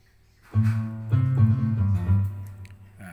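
Electric guitar tone played on a Roland EA7 keyboard, a few sustained notes and chords struck in sequence, clear and fairly loud with no talking.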